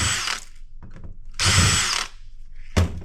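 A power screwdriver whirs in three short bursts, backing Phillips screws out of an aluminium heat sink on a peripheral circuit board, with quiet handling clicks between the runs.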